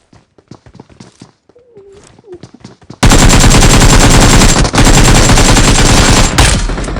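Video game gunfire: after a few seconds of soft clicks and faint sounds, a loud, sustained burst of rapid automatic fire breaks out and continues almost without a break to the end.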